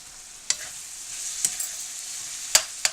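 Ground meat browns in a pan for lasagna: a soft, steady sizzle runs throughout, broken by a few sharp clacks from stirring.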